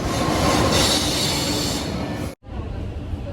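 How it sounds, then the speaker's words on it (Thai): Double-decker passenger train heading to Bruges, Belgium, heard from inside: a loud, steady rumble and rail roar with wheel noise, briefly cut to silence, then resuming more quietly. "ตอนนี้กำลังขึ้นรถไฟไปที่บรูซนะคะ 10โมง56แล้วเป็นรถไฟสองชั้นด้วย"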